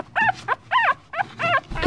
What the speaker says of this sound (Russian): Вот щенок, ему 3 месяца и 1 неделя.